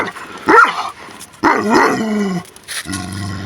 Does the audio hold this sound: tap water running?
no